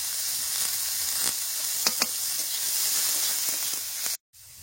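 Chopped onion sizzles steadily in a hot pan, with a continuous close hiss broken by a few soft clicks of stirring before a brief cutoff near the end.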